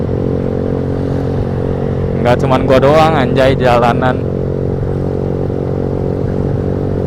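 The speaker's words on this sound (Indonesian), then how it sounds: "Masih banyak sih ya guys yang pakai knalpot brong" Steady motorcycle engine drone with loud aftermarket exhausts on an Indonesian road, heard from a riding motorcycle, with someone talking over it through the middle.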